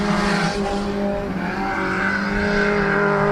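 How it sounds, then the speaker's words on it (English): A race car on a hot lap at Midvale Speedway roars past, its engine note shifting in pitch as it passes, loud and continuous with a strong harmonic drone. "Car shooting for the track record. He's been very fast in hot laps."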